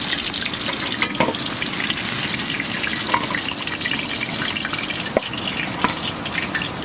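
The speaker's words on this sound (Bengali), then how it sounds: "এই দেখুন বন্ধুরা, একদম লাল লাল করে মাছগুলো ভাজা হয়ে গেল।" Pieces of tilapia fish frying in hot oil in a home kitchen give a steady, close crackling sizzle throughout, with a few sharper pops and utensil clicks scattered over it.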